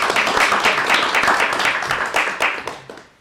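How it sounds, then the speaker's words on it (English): Applause and clapping from a council meeting audience honouring Richard, a dense patter of hands lasting a few seconds before thinning out near the end. "let's give another round of applause for Richard"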